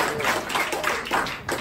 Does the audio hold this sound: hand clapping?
yes